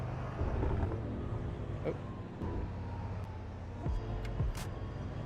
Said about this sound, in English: now we're driving the Audi, so it's on a paddle shifter.